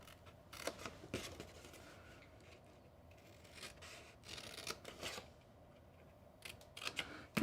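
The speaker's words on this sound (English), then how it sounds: "Cut up the vertical score lines and stop at that second horizontal score line." Scissors snip along score lines in paper while an envelope-style gift box is made, with a few short crisp cutting bursts between quiet pauses and light paper rustling, close and alone.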